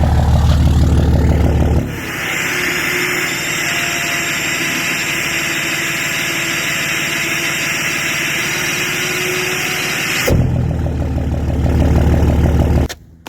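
A 5.9 diesel with a VGT turbo swap and a seized actuator runs steadily, a loud, close drone with a high-pitched squeal from the exhaust side, and engine revving audible at the start and end.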